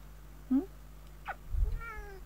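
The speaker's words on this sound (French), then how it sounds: "Il est bien le petit chat?" A small pet cat named Sopalin gives a few short, close meows indoors, each separated by brief pauses, with no talking.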